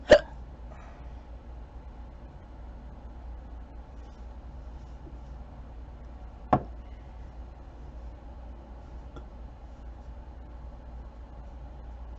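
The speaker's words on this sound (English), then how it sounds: "Oh shit, I got hiccups." Two sharp hiccups from a person, one right at the start and another midway, each brief and close, separated by long quiet with faint room hum.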